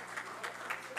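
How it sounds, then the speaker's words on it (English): Brief applause from an audience honouring prize winners at a conference event, a soft, steady wash of clapping that lasts about a second. "Big round of applause for them."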